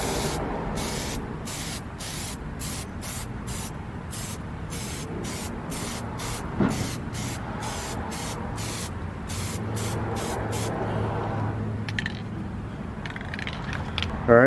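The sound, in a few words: spray painting plastic car trim with SEM Color Coat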